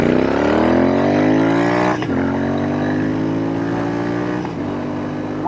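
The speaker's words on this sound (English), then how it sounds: "I'm caught by the way she sounds. Those pipes are fabulous." Royal Enfield Interceptor 650 motorcycle revving through its exhaust pipes, a loud, close, steady engine drone that rises in pitch, with two brief dips as the throttle shifts, running alone with no talk.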